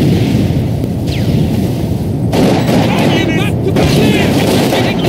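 Rapid bursts of gunfire and booming blasts from a World War II battle in the Company of Heroes 2 video game, loud and continuous, with shouted voices over the combat.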